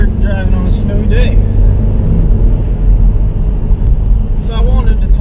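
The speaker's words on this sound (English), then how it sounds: "we are driving on a snowy day" Steady, loud cabin rumble from a 2018 Subaru WRX driving on a snowy road, a continuous low engine and tire drone throughout, with a voice speaking over it in brief stretches.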